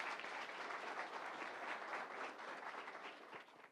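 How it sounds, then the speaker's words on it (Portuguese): A seminar audience at the Alta CRIA 2018 cattle-breeding talk gives the collaborators a round of applause. The clapping is dense and sustained, then tapers off at the very end. "Uma salva de palmas para os colaboradores aí, por favor."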